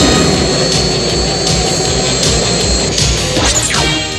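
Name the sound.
seaplane engine in animated series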